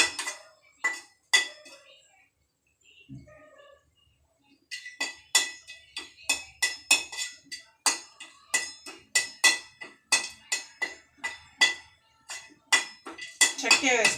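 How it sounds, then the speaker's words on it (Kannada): A one-inch piece of hard cinnamon stick dry-roasts in a hot pan for rasam powder, giving repeated sharp metallic clinks and scrapes of a spatula against the pan, close and fairly loud, with a brief quiet gap early on and a faint voice. "ಇದು ಹಾರ್ಡ್ ಇರೋದ್ರಿಂದ ಇದನ್ನ ಫಸ್ಟ್ ಹುರ್ಕೋತೇನೆ"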